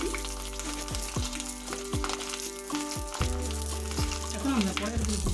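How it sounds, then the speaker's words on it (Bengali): Cut eggplant pieces frying in hot oil in a wok for a Bengali begun ilish dish, a steady close sizzle with soft crackles, under a background music track with repeated sliding tones. "প্রথমে আমরা এই গরম তেলের উপর কেটে রাখা বেগুনের টুকরোগুলো যোগ করে দেবো।"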